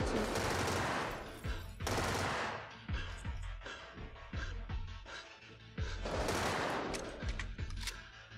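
Heavy gunfire in the shooter game Get Even, loud automatic bursts and sharp individual shots cracking in clusters, with brief lulls between volleys and echoing impacts.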